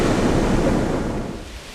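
Surf from the Indian Ocean at a surfing beach in Aceh, a broad steady roar of breaking waves with wind noise on the microphone, loud at first and easing slightly toward the end, no voices.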